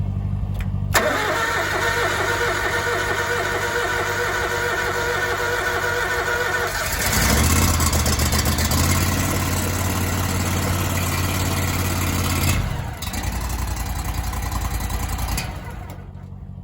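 A snow blower engine is started on full choke with about a third throttle: the starter cranks for several seconds before the motor catches and runs loud and close, rising briefly, then settling to a steady idle.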